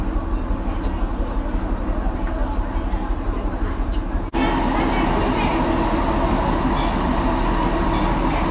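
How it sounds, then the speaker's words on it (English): A train idling at Da Lat station in Vietnam, a steady low rumble and hiss that jumps louder partway through, with voices audible beneath it. "This train leaves in like 6 minutes."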